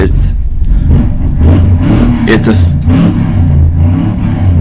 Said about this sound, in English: that's someone actually trying to rev up a bike or something